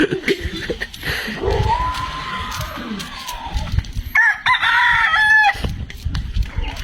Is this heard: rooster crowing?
yes